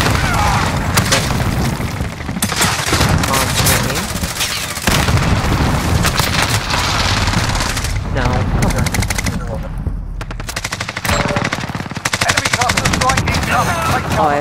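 Rapid, loud gunfire from a 725 shotgun hip-fired in the video game Modern Warfare, repeated blasts packed densely over a busy in-game soundscape with no pauses.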